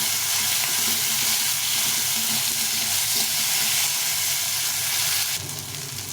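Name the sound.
onion and tomato frying in pan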